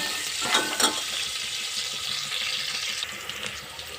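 Mustard seeds, garlic and onion fry in oil in a pan for sambar, a close, steady sizzling hiss with a couple of brief louder crackles near the start and no talking.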